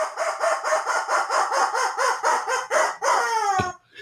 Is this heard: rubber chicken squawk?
yes